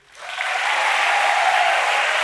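A large church audience on campus bursts into loud, sustained applause that swells quickly in the first moments and then holds as a thick, even roar of many hands clapping.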